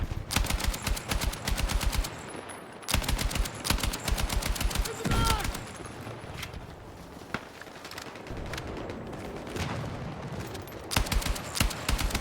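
Bursts of automatic rifle fire in a video game, loud and close, with repeated rapid volleys broken by short pauses and continuing through most of the stretch.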